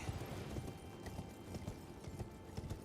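Horse hooves clip-clop steadily in Elden Ring, a rhythmic series of soft thuds from a galloping mount under a continuous game ambience.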